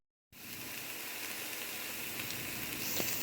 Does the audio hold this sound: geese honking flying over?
no